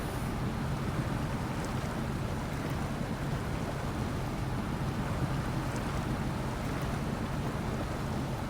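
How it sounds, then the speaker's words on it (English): A truck in the SnowRunner video game ploughs through water, giving a steady, dense wash of splashing and churning with a low engine rumble underneath, continuous for the whole stretch. "start driving through the water"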